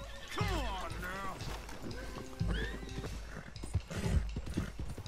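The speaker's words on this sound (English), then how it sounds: "Jesus Christ, this horse is fast." A galloping stallion in a video game neighs and whinnies loudly while its hooves clip-clop rhythmically up close, with game voices talking over it.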